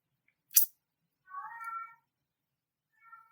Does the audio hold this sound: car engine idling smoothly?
no